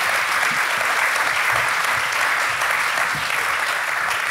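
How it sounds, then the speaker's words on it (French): Sustained, dense audience applause fills the room at a literary evening in Chamonix, a steady loud wash of many hands clapping with no gaps, lasting the full few seconds. "je crois qu'on peut les applaudir"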